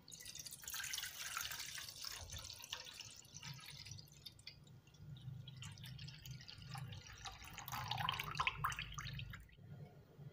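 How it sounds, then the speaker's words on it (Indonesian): Liquid milk pours into an 18 x 18 cm pudding mold that was wetted with water beforehand, giving a soft, steady splashing trickle that swells in two waves and stays faint and close. "Tahap pertama, kita tuangkan susu cairnya."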